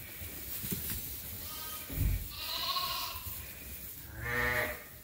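Sheep bleat on a farm where breeding rams are kept, with two clear, fairly close bleats, one short and one longer, over a low background of farmyard noise and no speech.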